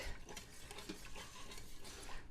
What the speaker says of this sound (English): I'm going to just start to whisk